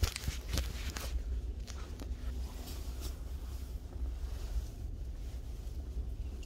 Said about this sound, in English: It's cold out here, it's windy out here.